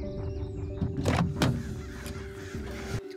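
A bird flies off, paired with an added car-door-opening effect: a couple of sharp mechanical thunks and clicks close up, with faint caw-like calls and a low hum beneath.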